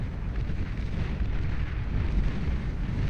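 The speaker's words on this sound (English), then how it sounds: "Those Cormorants dropping their light torpedoes," Light torpedoes dropped by Cormorant bombers explode in the Beyond All Reason strategy game, a dense continuous rumble of blasts and booms in a large battle.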